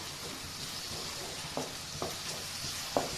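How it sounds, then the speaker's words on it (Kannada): Onions sizzle in hot oil in a pan while egg noodles are prepared, a steady close hiss with a few soft stirring clicks and no voices. "ಈರುಳ್ಳಿ ಸ್ವಲ್ಪ ಬ್ರೌನ್ ಆದಮೇಲೆ ಶುಂಠಿ ಬೆಳ್ಳುಳ್ಳಿ ಪೇಸ್ಟ್ ಹಾಕಬೇಕು"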